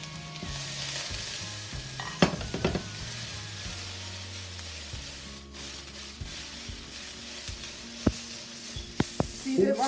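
Chicken, vegetables and red onion stir-fried in a wok, a soft steady sizzle with occasional sharp clacks and scrapes of the spatula against the metal, close and fairly quiet.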